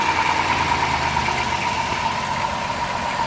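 Close to the engine bay, a 3.3 V6 in a van idles smoothly, giving a constant, evenly pulsing drone with a slight vibrating undertone and no talk.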